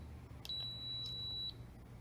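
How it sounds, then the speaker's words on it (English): A single long electronic beep from an AutoSlide 10-digit wireless keypad, high-pitched and steady, sounds for about a second against a quiet background. "That long beep shows it's ready."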